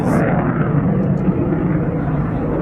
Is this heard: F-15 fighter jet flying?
yes